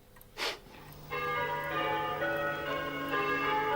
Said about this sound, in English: These bells were brought to you by Brian Quigley, the independent candidate.